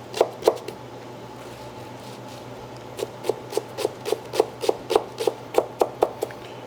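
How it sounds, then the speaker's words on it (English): Knife chopping white onion on a board, a couple of sharp chops followed by a pause, then a quick even run of about a dozen close, crisp strikes. "We're going to chop some white onion."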